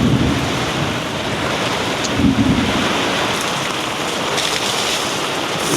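Heavy rain pours steadily with a deep rumble of thunder rolling underneath, loud and continuous with no voices.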